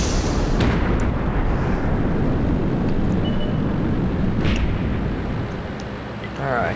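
Loud, dense rumbling of artillery shell explosions in World of Tanks, with the heavy roar filling the whole stretch with little break and a few sharper crackling bursts on top.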